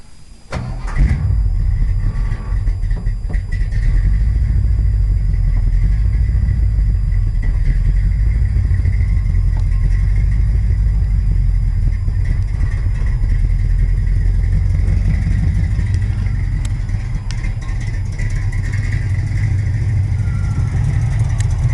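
A Chevelle's engine cranks and catches after fresh wiring and choke work, then holds a loud, steady, rumbling idle for about twenty seconds, close by, easing slightly near the end.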